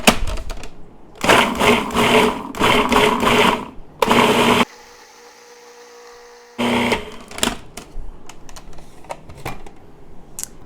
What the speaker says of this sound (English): I'm going to pulse and then I'm going to blend.